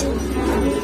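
A pigeon gives a brief, low, steady coo close by, with no speech over it.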